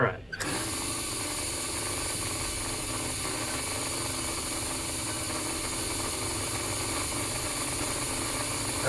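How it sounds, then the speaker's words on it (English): A 1946-50 Seaboard model coal loader running with its bucket and motor, a steady close-up mechanical whir and hum with a faint ratcheting texture, starting after a brief click and continuing evenly. "the operation of the whole bucket and motor on this one happens to be smoother than the one I have on the layout"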